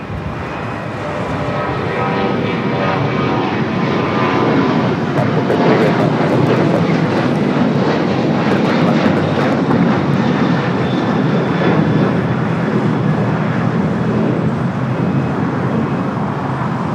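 An American Airlines airliner takes off from runway 25 right at LAX, its jet engines roaring loud and continuous throughout, a broad sustained rush that holds steady with no speech over it.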